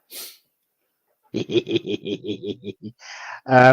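A short sneeze up front, then a pause, a rapid string of barks or snorts, and a final loud burst; no talking.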